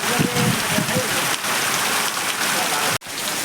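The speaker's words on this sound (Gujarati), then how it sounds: "પાછો વરસાદ આવી ગયો છે એક નવા અંદાજમાં લગભગ 4 દિવસ પછી" Steady rain falls and patters on surfaces close by, a dense even hiss that runs almost without a break, with a brief voice early on.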